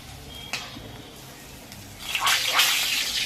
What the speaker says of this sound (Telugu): సో ఇది వాటర్ పడుతుందమ్మా.